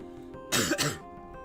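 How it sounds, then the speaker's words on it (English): A single harsh throat-clearing cough from a streamer recovering from illness, close and loud, a brief double burst of about half a second. "I'm sorry, I'm coughing so much"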